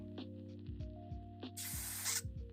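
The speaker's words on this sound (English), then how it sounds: "give it a clean before I spray the varnish through" A cleaning spray of solvent forced through an airbrush ahead of varnishing, a loud hissing burst lasting about a second, set against a steady low mechanical hum and scattered clicks.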